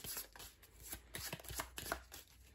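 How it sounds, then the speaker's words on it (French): A discard pile of cards is shuffled during a solo game of Dinoblivion, with quick, close riffling bursts repeating in an uneven rhythm with no talk. "je mélange ma défausse pour prendre 2 cartes supplémentaires"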